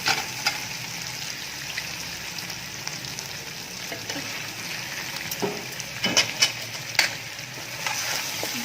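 Mutton frying in ghee in a large pot as potatoes go in, with a steady loud sizzle and intermittent stirring and scraping clatters rising toward the end.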